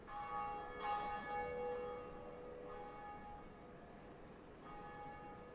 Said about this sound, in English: And see it go dong.